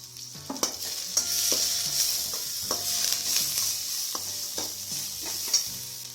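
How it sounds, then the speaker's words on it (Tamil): Onions with green chillies, curry leaves and dried red chillies sauté in a pan for semiya upma, a continuous sizzle under repeated clinks and scrapes of a stirring spoon. "வெங்காயம் நல்லா வதங்கட்டும்."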